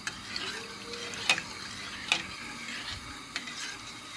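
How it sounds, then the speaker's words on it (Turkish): A spoon stirs semolina milk pudding in a pot on the stove, giving soft scraping swirls with a few sharper taps against the pot, quiet and close. "Bunu kaynayana kadar böyle karıştıracağız."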